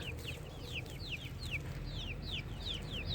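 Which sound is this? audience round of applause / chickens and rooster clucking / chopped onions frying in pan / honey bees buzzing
chickens and rooster clucking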